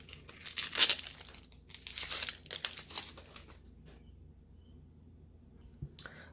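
The papery skin of a whole onion is peeled away by hand in close, dry crackling and tearing bursts over a few seconds, then a quiet stretch with a faint click.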